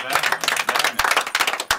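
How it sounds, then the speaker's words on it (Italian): A small audience applauds at a lively Italian stage event: distinct, fairly close claps pile up in an uneven rhythm, loud and punchy, with a few sharp individual smacks standing out. "Un applauso."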